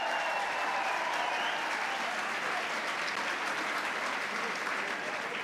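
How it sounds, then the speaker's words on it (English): A crowd applauding the Galway hurling captain and manager after the All-Ireland hurling final, sustained, dense clapping from a large gathering, steady and full throughout, without speech over it. "Give them a big round of applause,"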